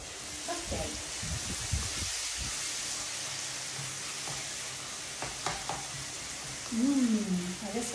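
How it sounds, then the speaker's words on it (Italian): Steady frying-pan sizzle of nduja and eggplant, a soft continuous hiss with occasional crackles and a few stirring knocks, fairly quiet and close. "Sentite come si sfrigola per bene?"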